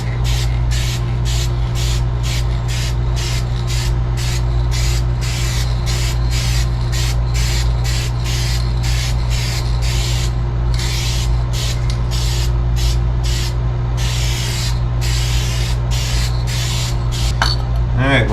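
Duplicolor GM Black Metallic spray paint hissing from an aerosol can onto a car body during rust repair, in short repeated bursts of steady spray over a constant low drone, close and loud.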